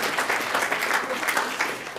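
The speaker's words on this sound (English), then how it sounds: "give them a round of applause" Audience at a math lecture applauding, a moderate, even patter of many hands clapping at a slight distance, steady throughout the short stretch.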